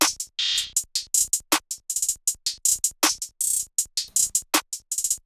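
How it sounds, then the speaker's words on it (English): Complex trap hi-hat pattern built in FL Studio, crisp bright ticks in a syncopated rhythm broken by quick stuttering rolls, heard alone and dry. "you can get hi-hat patterns that are a lot more complicated that sound like this."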